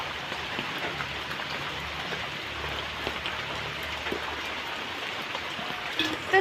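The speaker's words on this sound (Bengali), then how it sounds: "জোরে বৃষ্টি নামবে।" Rain falls steadily on surfaces outdoors, a soft, even hiss of drops that continues without a break, fairly faint and with no voices, then a brief louder knock right at the end.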